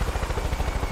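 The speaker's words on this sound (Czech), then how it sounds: "To je náš vrtulník nebo cizí vrtulník?" A helicopter in Far Cry 5 thumps close by with fast, rhythmic rotor beats and a steady engine drone.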